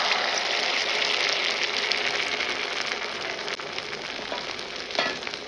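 Eggs fry in a pan in a home kitchen, a loud continuous sizzle and crackle that eases slightly toward the end, with no talking.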